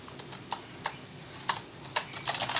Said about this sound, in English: as you're typing out, you can actually see the score change